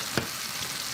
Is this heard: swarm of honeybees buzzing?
no